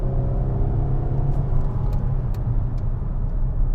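A 2013 Ford Taurus SHO driven hard through corners, a steady, loud road and engine rumble with faint intermittent ticks and rattles over the top, continuous throughout.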